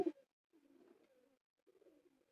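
A female pigeon coos softly in low, throaty bursts, two or three rolling phrases with short pauses, quiet and close in an otherwise still space.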